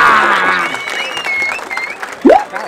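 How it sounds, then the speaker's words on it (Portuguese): Crowd applause and cheering at a Brazilian street rap battle between MCs, a loud burst of clapping with shouts, fading slightly before a short vocal whoop near the end. "palmas pro Bigão quebrada!"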